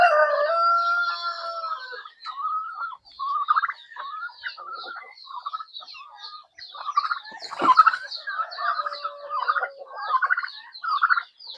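Chickens on a small farm at feeding time clucking and crowing in bursts, a rooster's crow standing out among scattered fowl calls at close to moderate distance, with a sharp knock midway.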